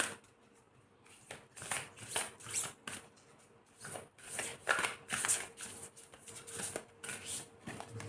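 A deck of tarot cards is shuffled and cards are drawn close by, in soft rhythmic bursts of riffling and sliding that pause briefly between handfuls.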